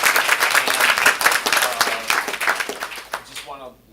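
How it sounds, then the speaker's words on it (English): A comedy improv showcase audience breaks into loud, close applause with some cheering voices mixed in, sustained and fairly dense before tapering off sharply at the end. "Give yourselves a round of applause."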